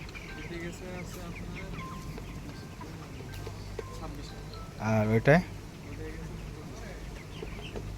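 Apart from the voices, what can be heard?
chickens clucking in poultry farm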